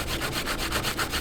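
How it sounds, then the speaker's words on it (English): Coarse 36-grit sandpaper scrubs across an RV's fiberglass exterior in quick, even back-and-forth strokes, a close, rhythmic rasp with no talking. "So we're using a 36 grade sandpaper."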